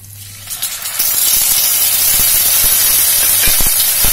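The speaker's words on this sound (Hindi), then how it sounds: "अब हम डालेंगे इसमें प्याज" Onions hit hot oil in a pan and burst into a loud, steady hiss of sizzling that holds strong throughout, with faint clinks of stirring.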